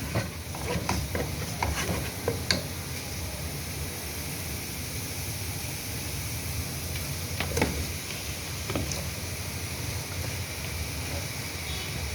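Chicken pieces frying in a pan for murgh cholay, a steady sizzle with repeated scraping stirs and clinks of the spoon against the pan, close and fairly quiet throughout, with no talking.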